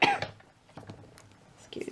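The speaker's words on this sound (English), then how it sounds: "Coughing and spluttering." A person coughs in a sharp, loud burst at the start, then gives a few weaker follow-up coughs and splutters, with a short throat-clearing sound near the end.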